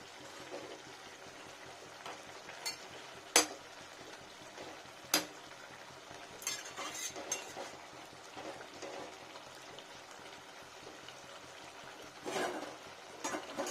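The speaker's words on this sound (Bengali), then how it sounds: "শাক যত নাড়াচাড়া করে তত বেশি টেস্টি হয়" Palong shak (spinach) with dal bori is turned over in a pan, giving quiet, wet rustling and soft scraping with a few sharp spatula clinks against the pan, spread irregularly, with no voices.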